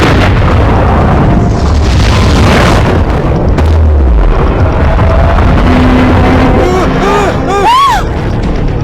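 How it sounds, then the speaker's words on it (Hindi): A submarine fires a torpedo: a deep booming blast rumbles through dense, noisy action, followed by rising and falling whooshing tones, loud and continuous throughout. "टॉर्पीडो तैयार रखो। Shoot tube 1।"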